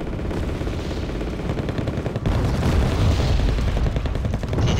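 Light tank gunfire in the Wargame: Red Dragon strategy game, a dense run of booming shots and rattling bursts that grows louder midway, heard alone without speech.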